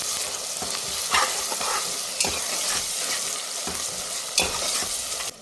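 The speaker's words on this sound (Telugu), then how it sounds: "ఇప్పుడు టమాటాలు కూడా వేసేసుకుందాం" Tomato pieces for mutton biryani frying with ginger-garlic paste, with a steady loud sizzle and regular scraping strokes of a spoon stirring through the pan, close up.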